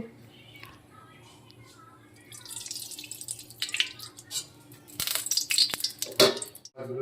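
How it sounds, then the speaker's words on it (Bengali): Oil poured into a hot kadai before frying fish, starting quiet and then rising into crackling, spattering sizzles with a few sharp pops, heard close up, with a voice speaking over part of it. "কড়াইতে এবার আমি তেল দিয়ে দেব"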